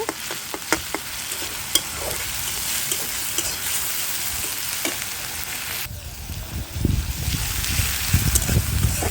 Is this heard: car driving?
no